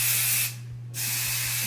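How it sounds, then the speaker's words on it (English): Hairspray hisses in one steady burst of just under half a second, sprayed onto freshly set curls from a quick weave, standing alone against a low constant hum. "with some hairspray while it sets"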